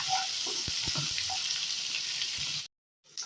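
Onions sauté in hot oil in a pan for goat leg gravy, a close, continuous sizzle with a few small stirring knocks, then a sudden drop to silence near the end.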